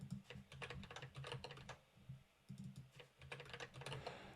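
Rapid typing on a computer keyboard while entering answers in a capture-the-flag contest, steady clusters of close, crisp key clicks in bursts with brief pauses, alone without talk.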